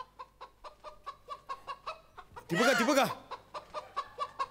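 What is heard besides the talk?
jungle fowl clucking call, comedy show sound effect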